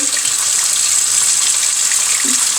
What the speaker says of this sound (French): On attend que l'eau tiède arrive.